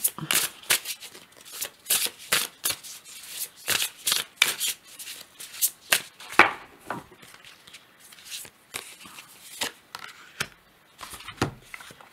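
A deck of oracle cards is shuffled for a reading in a quiet room, giving repeated close, crisp riffling bursts in an uneven rhythm over about twelve seconds.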